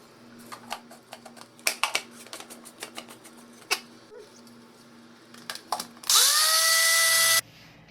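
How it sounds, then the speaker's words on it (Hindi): Dried green chillies are ground into powder in a mixer grinder jar. Scattered clicks and taps come first, then the motor whirs up into a loud, harsh grinding roar that lasts just over a second and stops abruptly. "तो अब इन्हें हम ग्राइंड करेंगे। इन्हें ग्राइंडर जार में डालेंगे और इसका पाउडर बना लेंगे।"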